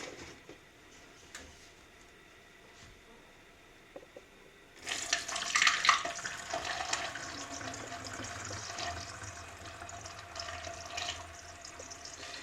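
Photo developing chemical mixture poured from a container into a bottle during home film processing, a steady close liquid pour that starts abruptly partway through and continues to the end over faint room noise.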